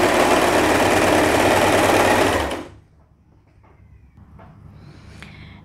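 Sewing machine stitching the waistband of a teenager's pajama trousers, running in a loud steady whirr for about two and a half seconds, then stopping, followed by faint handling sounds.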